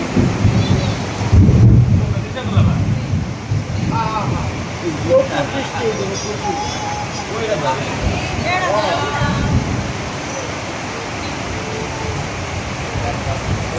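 Steady rain falls throughout a rice-feeding ceremony, with a low rumble early on and people talking over the downpour.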